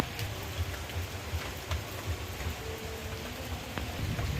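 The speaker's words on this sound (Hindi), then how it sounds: "बारिश हो ही रही है, देखिए कुछ झलक फिर भी।" Steady evening rain falls during a wedding-season outing in Mithila's Harinagar, a continuous close hiss of drops on surfaces with no voices.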